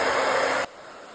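A handheld hair dryer blows a steady, loud broadband rush of cold air during a hair blowout, then cuts off abruptly just past halfway, leaving quiet room tone.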